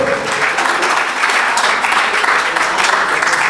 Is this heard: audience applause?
yes